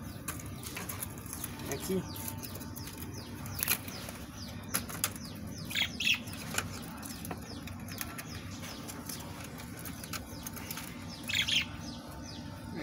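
Parakeets flutter and chirp while being moved back into a large cage, with bursts of wing flapping and scattered high tweets close by, under soft background noise and a brief spoken word.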